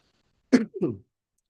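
A single short, close cough in two quick bursts, followed by silence.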